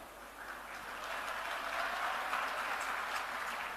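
Crowd applause at a political rally in Himachal, a broad steady wash of clapping that swells slightly and holds at a moderate, fairly distant level with no voices over it.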